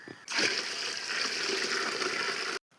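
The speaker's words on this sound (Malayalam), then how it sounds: "3/4 ഭാഗത്തോളം വെള്ളം നമ്മൾ അതിൽ ഒഴിച്ച് കൊടുത്തിട്ടുണ്ട്." Water gushes from a vessel into a rice-cooking pot set on an outdoor stone hearth, a sudden close splashing pour that runs evenly for about two seconds and then stops abruptly.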